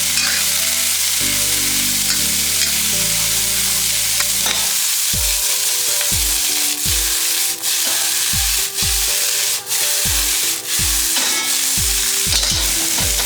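Leftover pork from four ribs fries with mushrooms and onions in a pan, a loud, continuous sizzle broken by a series of sharp, regular utensil knocks and scrapes, no talking.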